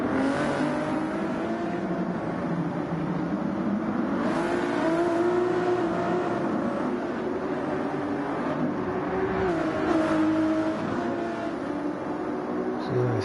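GT1 race car in a sim racing game at Circuit Gilles Villeneuve, engine roaring steadily with shifting pitch as it revs and accelerates, a continuous loud drone throughout.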